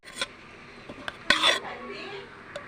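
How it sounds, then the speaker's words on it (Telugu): Vermicelli halwa being stirred in a pan, a handful of scattered scraping and clinking knocks of a spoon against the metal, with quiet gaps between and one brighter scrape near the middle. "ఇలా తిప్పాలండి."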